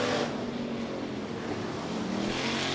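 USRA hobby stock race cars roar around the Rapid Speedway track in a continuous, loud, dense engine drone with overlapping motors and no break.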